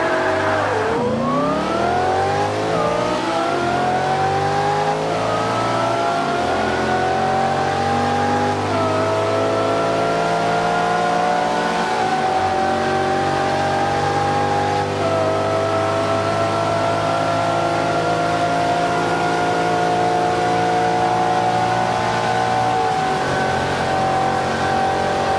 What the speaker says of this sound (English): On the left you will hear into the 2013 Shelby GT500, and on the right you will hear into the 2010 Lexus LFA.